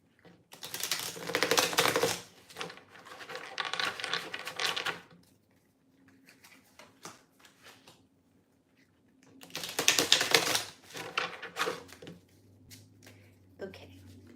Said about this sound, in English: Do a couple of shuffles.